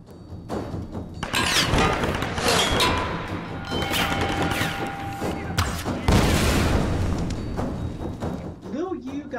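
Heavy blasts and crashing booms from a Tomb Raider: Definitive Edition firefight, dense and loud over several seconds with gunfire mixed in, while an excited voice talks over the chaos.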